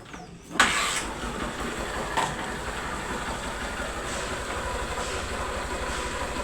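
Honda Fan 125 motorcycle engine, cold and freshly repaired, starting and then idling steadily with a close, even mechanical chug.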